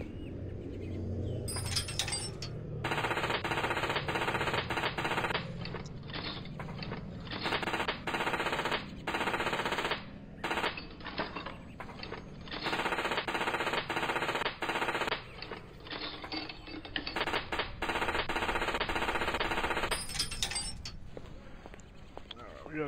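Bursts of rapid aircraft machine-gun strafing fire in the Plane Mechanic Simulator video game come loud and dense, in long repeated volleys separated by brief pauses.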